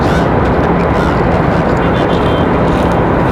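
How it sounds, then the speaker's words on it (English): A Lufthansa Airbus A330 departs for Frankfurt at Raleigh-Durham International Airport, its jet engines producing a loud, steady broadband roar that fills the whole stretch with no break. "So long to Lufthansa, back to Frankfurt. Good to see the A330 for Lufthansa."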